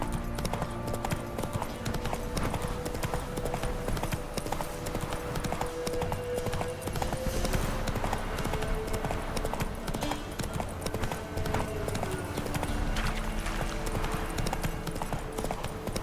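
Roach the horse gallops in The Witcher 3, a steady, loud stream of hoofbeats with snorts and ambient game sound running throughout, and faint voices at times.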